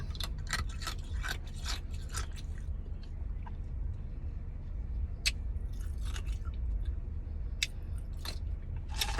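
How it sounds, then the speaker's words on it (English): Ice being chewed up close, with a run of sharp crunching bites, pauses between them, and a few isolated crunches later, with no talking. "I stay chewing on ice all day, every day."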